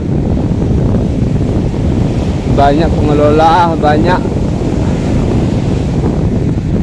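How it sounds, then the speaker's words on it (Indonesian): Ocean surf rolls steadily onto the sand at Pantai Cemara Indah, a constant broadband wash with wind buffeting the microphone, while someone speaks briefly in the middle over the waves. "yang menikmati indahnya desahan ombak ini guys ya"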